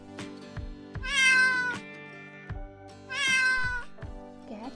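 A domestic cat meows twice, two long, loud, clear calls about two seconds apart, with soft music playing underneath.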